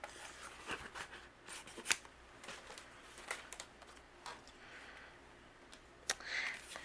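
Scissors snip through a piece of Spellbinders pop-up foam, leaving a quiet run of close cuts and soft rustles with a few sharper clicks spaced irregularly.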